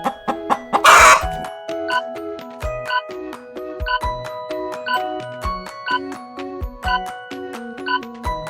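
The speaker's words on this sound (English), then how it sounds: "Chicken." A farm chicken clucks in a quick run of loud, close clucks, set against a bright, tinkling musical backing.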